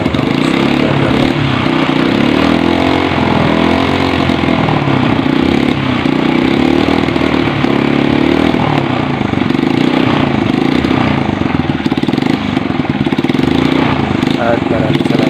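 Motorcycle engine running close by after repeated kick-starts, a loud continuous idle and chug that carries on throughout with a voice talking over it.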